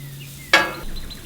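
Onions dropped onto a hot gas grill for smash burgers, giving one sudden close burst of sizzle that quickly settles into a softer hiss.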